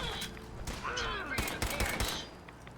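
Rapid gunfire in the video game Fallout 4, a dense run of overlapping shots and bursts with game effects mixed in, fairly loud and continuous throughout.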